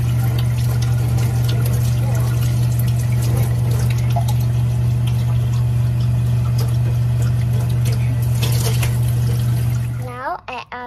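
Water runs steadily from a tap while a dish is rinsed in a home kitchen, a constant splashing flow under occasional household sounds, then it shuts off near the end.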